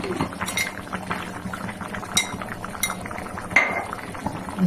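Metal spoon stirring food with ghee in a pot, giving a steady run of scraping clinks and taps against the pan, close and moderately loud with brief sharper knocks.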